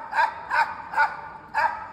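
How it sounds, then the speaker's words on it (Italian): Leashed dogs held at a distance bark in four evenly spaced, sharp yelps, loud and close, with no talking. "Cani che piangono, abbaiano, perché sono a distanza."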